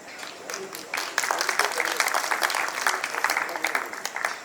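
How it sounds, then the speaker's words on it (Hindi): A live audience at an Indian kavi sammelan poetry recital claps to welcome the second round, a dense steady wash of applause lasting several seconds with no one speaking over it. "आप लोग तालियां बजा करके और इस दूसरे दौर का स्वागत कीजिए"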